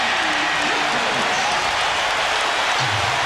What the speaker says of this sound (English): the crowd gives Tony a big cheer